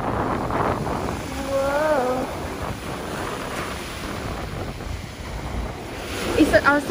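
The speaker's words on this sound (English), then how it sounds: "I have no idea if you're going to be able to hear me because it is so windy." Strong seaside wind buffets the microphone with a roar of breaking waves beneath, continuous and loud, while a person briefly talks early on.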